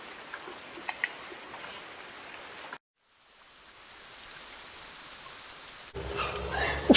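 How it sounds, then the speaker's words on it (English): Steady rain falls outdoors on a farm, a dense, even hiss with occasional louder drops, broken by a brief drop-out before resuming more softly and then swelling into a closer, brighter patter at the end. "since it is raining"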